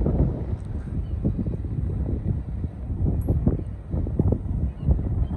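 Wind blowing at the end of Bridlington pier on a cold beach day, a steady low buffeting rumble against the microphone with gusty surges throughout.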